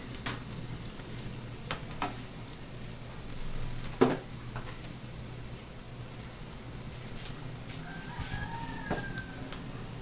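Steady low sizzling of ginger and garlic browning in a hot pan, continuous and fairly quiet, with a few faint clicks and a brief distant birdcall near the end.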